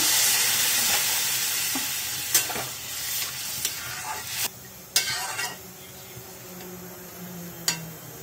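Water poured into spices frying in a pan, a loud hiss that gradually settles into softer sizzling, with sharp clinks of a spoon against the pot.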